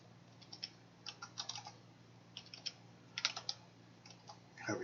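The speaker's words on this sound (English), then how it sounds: "Having trouble typing, as usual." Irregular bursts of keystrokes on a computer keyboard while writing program code, quick clicking runs with short pauses, close and quiet over a low steady hum.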